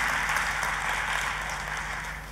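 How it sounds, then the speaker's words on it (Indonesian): A church congregation breaks into loud, sustained applause and cheering, a dense crowd clap filling the room throughout with no one speaking over it. "Kita kasih tepuk tangannya yang paling meriah buat Tuhan kita."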